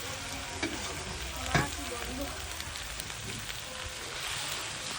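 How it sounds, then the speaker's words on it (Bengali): Water poured into a pan of sautéed young goat meat, giving a steady frying sizzle and bubbling with a couple of brief clatters, continuous and close. "কষানো হয়ে গেছে এবার জল দিয়ে দিচ্ছি"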